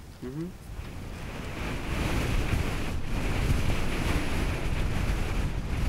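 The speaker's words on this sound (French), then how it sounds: "En milieu d'après-midi, le vent se lève brusquement." Wind rises suddenly over the Nazca desert in mid-afternoon, a strong, rushing roar that buffets the microphone and grows louder and steadier after a brief voice at the start.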